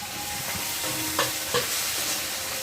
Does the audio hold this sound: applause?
no